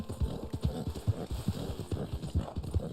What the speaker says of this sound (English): I should probably feed my horse here.